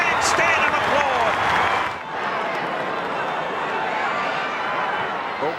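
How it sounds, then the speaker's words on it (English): Stadium crowd at an Australian football match with the Geelong Cats, standing and applauding: a loud, dense roar of clapping and cheering that dips briefly partway through, with a commentator talking over it. "the fans stand and applaud"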